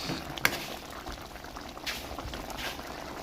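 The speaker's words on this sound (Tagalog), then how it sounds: "Nakakulo na siya." Sautéed sardines with malunggay leaves boil in a pan. A soft, continuous bubbling is heard up close at low volume, with a brief clink near the start.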